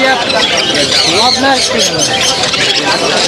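Many caged birds squawk and chirp at once at the Mirpur 1 bird market in Dhaka, a loud, dense chorus of overlapping calls close by, with voices talking in the crowd.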